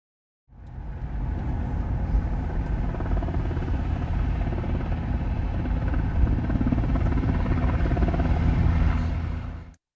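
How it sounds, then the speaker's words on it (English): A helicopter hovers while picking up water from Jackson Lake, its steady, loud rotor thump and engine roar sustained close by for nearly ten seconds with no talk. "a little clip of the helicopter picking up water"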